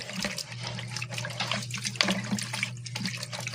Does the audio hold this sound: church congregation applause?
no